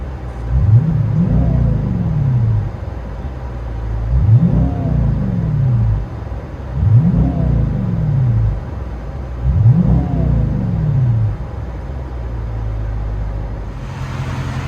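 From inside a Dodge Charger 5.7 Hemi V8 with an AWE exhaust, a muffled deep engine rumble swells with four revs, each rising and falling, then settles back to a low idle.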